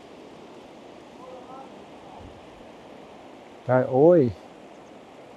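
A mountain stream in Tibet rushes in a steady, unbroken wash of flowing water, and partway through a voice breaks in with a brief exclamation over the constant sound.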